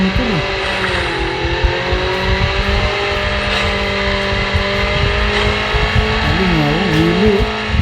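A motorcycle ridden in the Call of Duty Mobile video game drones steadily with a loud, continuous engine tone, its pitch wavering and warbling near the end as the bike moves.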